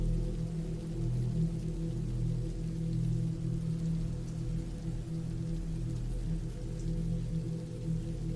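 Steady rain falls continuously on a surface at night, a dense unbroken wash of drops with a low rumbling undertone, even and moderately loud throughout with no voices.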